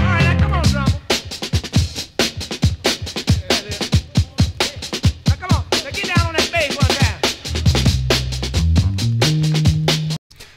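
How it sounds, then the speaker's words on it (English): A punchy breakbeat loop plays alone, busy kicks and snares hitting in a fast, syncopated groove with bass notes stepping underneath toward the end. "The drum break loop sounds like this."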